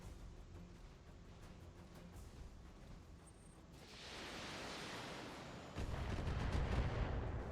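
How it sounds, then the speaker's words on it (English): Indirect artillery fire in the BattleTech video game: a rumbling barrage of dull, noisy blasts that swells partway through and then grows louder and heavier toward the end. "That's indirect fire."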